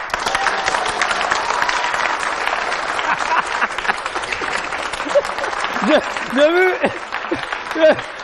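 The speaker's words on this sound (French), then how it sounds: "ça s'applaudit, s'il vous plaît" Studio audience breaks into loud, dense applause that fills most of the stretch before thinning out, with cheers and voices rising at the end.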